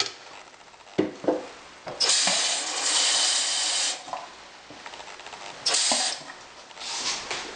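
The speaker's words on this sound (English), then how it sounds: "Add a bit more water." Water poured into a jug of ground hemp seed and water while making hemp milk, heard as splashing, hissing pours in a few bursts of varying length, close and fairly loud with no talking.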